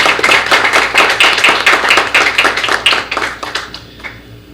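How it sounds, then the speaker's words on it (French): At a medical ceremony for a university ophthalmology service, an audience gives a doctor a short round of applause. Distinct, close claps come in quick bursts, then thin out and fade toward the end. "Je vous donne un petit applaudissement pour le Dr Mengret."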